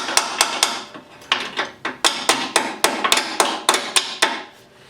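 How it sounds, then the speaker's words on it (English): A wrench tapping a bolt out of the fender pan on a John Deere lawn tractor, a close, loud series of sharp metallic knocks in an irregular rhythm. "generally it just takes a little tap with a wrench or something to get them out"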